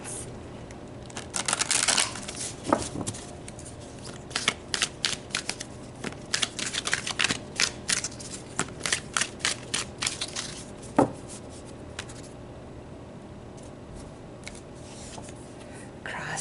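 Tarot cards being shuffled by hand, a run of crisp papery riffles and slaps that come in close, uneven bursts, with quiet gaps between them and no talking over them.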